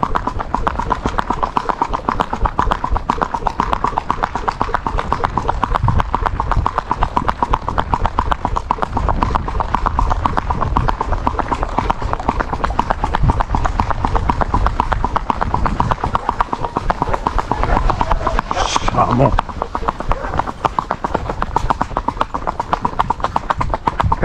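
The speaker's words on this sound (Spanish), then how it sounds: "¿Qué musiquita lleva este potro? hoy está más a paso" An Andalusian colt walks with steady, loud clip-clopping hooves in a continuous even rhythm for the whole stretch, heard close up with nothing else prominent.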